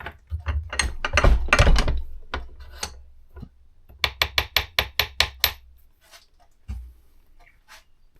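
A taper tap cuts a right-hand thread into a Harley Davidson brake shaft, giving a close, loud run of sharp metallic ratcheting clicks in a quick regular series, with scattered softer ticks between turns.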